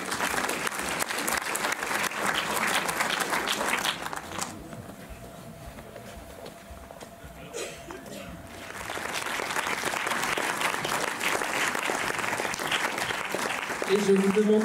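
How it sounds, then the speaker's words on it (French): A cinema audience at a film festival applauds a director, with dense clapping that dips into a quieter stretch of scattered claps partway through before swelling again to full strength. "Et je vous demande de continuer vos applaudissements pour la réalisatrice Azerzi."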